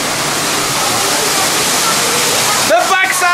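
Heavy cascading water from a waterfall on a Disneyland Paris ride roars as a steady broadband rush, loud and close throughout, with a brief voice rising near the end.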